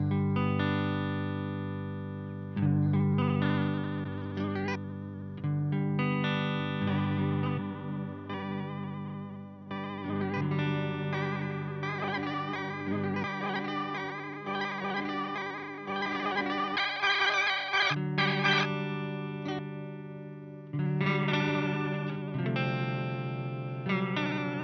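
Electric guitar runs through a Hologram Chroma Console delay as the amount setting changes, sustained chords and notes smeared with repeats and chorus-like shimmer. It plays steadily and fairly loud with no pauses.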